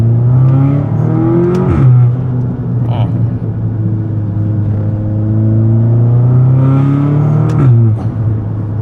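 A 2017 Audi S3 with a downpipe and a 2-liter turbo four-cylinder drives along, its steady engine drone rising and falling with gear changes, close and loud from inside the cabin.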